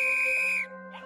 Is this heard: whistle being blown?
yes